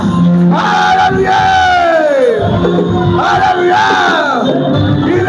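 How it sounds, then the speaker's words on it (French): A church congregation shouts and cries out in joy together, a loud, sustained crowd roar with rising and falling whoops and bellows that swell in waves throughout. "On pousse les cris de joie."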